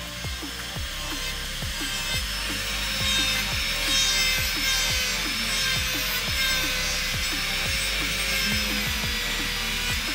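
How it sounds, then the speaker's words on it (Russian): A STRONG 204 jeweler's micromotor drill carving a piece of wax: a steady high motor whine under rapid, rhythmic scraping strokes, close and continuous. "Берем кусочек воска, включаем и начинаем моделировать."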